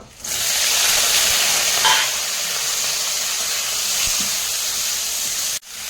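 Prawns hit hot oil and fry with a loud, steady crackling sizzle and steamy hiss that runs unbroken for several seconds before cutting off abruptly, with a faint clink midway.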